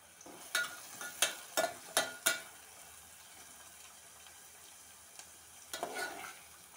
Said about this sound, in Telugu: ఆయిల్ వేడయ్యాక 2 ఆనియన్స్ పెద్దవి కట్ చేసుకొని వేసుకోవాలి. బాగా ఫ్రై అవ్వాలండి అవి.